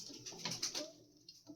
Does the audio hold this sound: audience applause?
no